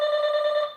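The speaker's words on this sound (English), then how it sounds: "Somebody's ringing my doorbell." A doorbell rings once, a single steady electronic tone held for under a second and heard on its own with no talking.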